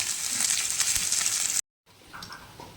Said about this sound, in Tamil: இப்போது பீன்ஸ் கட் பண்ணி வச்சுருக்கேன் இப்போ நம்ம அதில் சேர்த்துக்கலாம் பீன்ஸ் அதில் சேர்த்துக்கிறோம்